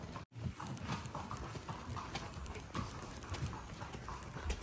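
Horse hooves clip-clop along a forest path at the Matheran hill station, a steady, fairly loud rhythm of hoofbeats that carries on throughout with no one talking.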